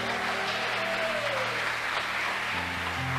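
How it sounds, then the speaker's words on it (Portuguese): A church congregation applauds during a sermon, a dense, sustained burst of clapping that stays loud throughout, with held keyboard chords ringing beneath it. "Dá para aplaudir o Senhor por isso?"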